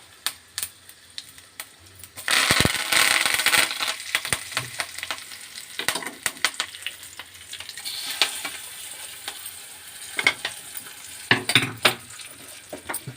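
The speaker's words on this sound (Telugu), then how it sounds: "పోపు దినుసులు వేగుతున్నాయి." Tempering spices with curry leaves and asafoetida fry in hot oil for tomato and red chilli chutney, a loud burst of sizzling and spattering that settles into crackling pops and occasional utensil clinks, without any voices.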